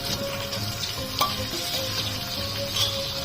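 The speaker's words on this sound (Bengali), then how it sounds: "মশলার গা থেকে তেল ছেড়ে দিয়েছে দিয়ে দিচ্ছি ভেজে রাখা এঁচোড়" Fried young jackfruit hits spices frying in hot oil, bringing a steady close sizzle with a sharp clink of a utensil near the middle and a faint scrape near the end, with no voices.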